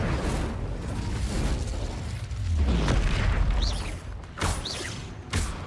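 A fire spell cast in the Hogwarts Legacy video game, heard as a loud burst with a rumbling low boom that swells and rolls for a couple of seconds, followed by sharper whooshing flares amid other spell effects.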